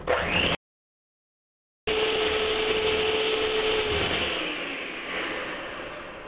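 Electric mixer whirring through keto protein waffle batter, a loud, close motor drone that briefly stops, then starts again with a steady pitch that slowly fades.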